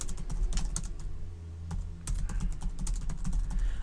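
Fast, steady tapping on a computer keyboard while code comments are typed, close and fairly quiet, with a brief pause partway through before the keystrokes pick up again.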